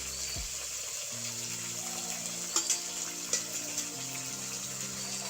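Ground spices with turmeric and salt fry in oil in a pan for a potato and pointed gourd curry, giving a low sizzle with a few sharp spattering pops over a faint steady hum.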